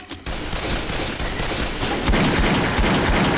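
Dense, loud gunfire from Left 4 Dead 2 on a swamp level, where a player has just picked up a rifle, rattles on without a break as a continuous burst of shots.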